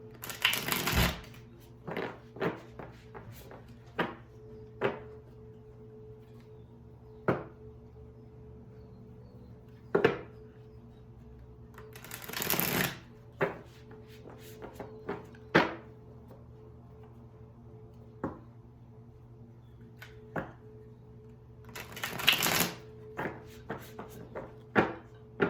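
Muse Tarot cards are riffled in several quick bursts, separated by scattered sharp taps and clicks in a quiet room, with a low steady hum underneath.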